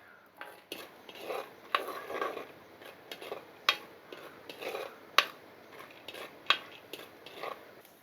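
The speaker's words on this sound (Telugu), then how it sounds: "ముందుగా ఏరుశెనగ గుళ్ళు వేపుకుందాం అండి" Peanuts fry in a pan for tamarind-leaf pulihora, with irregular metallic clinks and ticks from stirring sounding close and fairly quiet over a soft sizzle, and no talking.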